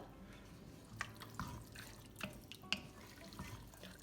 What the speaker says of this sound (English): just a splash of water in there.